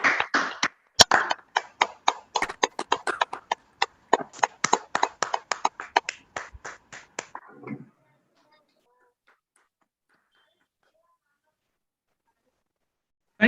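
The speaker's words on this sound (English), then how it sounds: "to please unmute yourself and give a huge round of applause" Online meeting attendees clap for a distinguished Toastmaster through unmuted microphones, a few close, uneven sets of hand claps with sharp individual hits for several seconds, then stopping abruptly into near silence.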